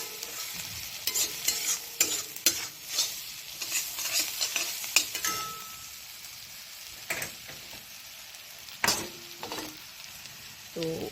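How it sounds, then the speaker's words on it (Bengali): Ingredients stirred in a frying pan for egg curry: a soft sizzle beneath irregular scraping and clattering strokes of a spoon against the pan, busy at first, then sparser with quiet gaps and a few later knocks. "এগুলো দিয়ে একটু নেড়ে চেড়ে নিই।"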